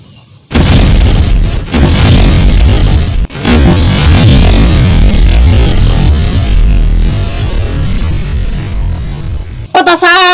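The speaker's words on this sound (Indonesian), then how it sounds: "Petasan." A firecracker goes off with a loud booming blast, followed by a long crackling, roaring rumble with sharp breaks, ending in a brief high whistle-like sound.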